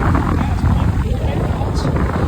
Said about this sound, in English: This is a rotary compressor.